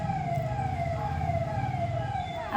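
Ambulance siren wailing steadily as it passes, a continuous loud warbling tone over low road rumble, with no talk.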